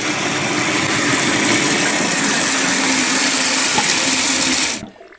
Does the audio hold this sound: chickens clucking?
no